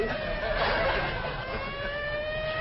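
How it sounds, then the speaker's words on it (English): A distant siren wails steadily, its tone sliding slowly over a low background hum. "Them sirens! Somebody's calling the law."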